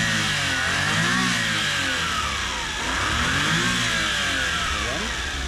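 Suzuki Every wagon engine revving after spark plug work, rising and falling through several close, loud RPM sweeps over a steady mechanical drone, no talking.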